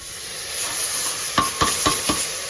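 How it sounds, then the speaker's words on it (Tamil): Tomatoes dropping into a pan of onions and green chillies frying in oil, giving a close, steady sizzle with four quick knocking stirs near the end. "இப்போ தக்காளி நான் சேர்த்துக்கிறேன்"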